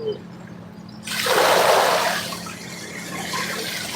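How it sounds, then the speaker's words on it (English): Waves washing and splashing near a fishing bank on a lake shore, a surge of rushing water swelling loud for about a second then easing into a steady wash. "Here comes some hectic waves."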